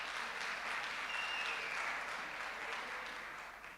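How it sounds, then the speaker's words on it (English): Steady applause from an audience at a public roads and transport portfolio committee meeting, a dense wash of clapping that holds level for several seconds before easing slightly at the end. "I would have liked him to have heard your applause"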